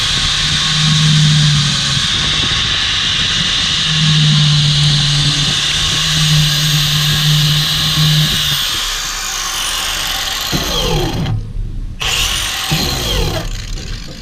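A 4.5 inch angle grinder fitted with a chainsaw wheel grooves the lugs of a dirt bike tire, a loud, high whine that rises and falls with the throttle, stops briefly near the end, then spins back up.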